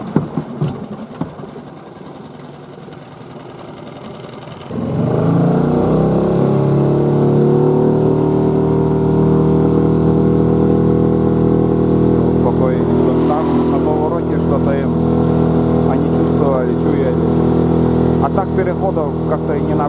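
A small outboard motorboat engine starts up after a few seconds of rattling and then runs steadily with a loud constant drone and slight pitch wobble, close and unbroken to the end.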